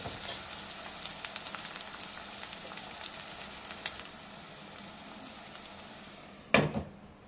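Ginger garlic paste cooking in oil for a Telugu alasanda (black-eyed pea pod) curry, a soft steady sizzle throughout, ending in a brief louder clatter of a pan or lid.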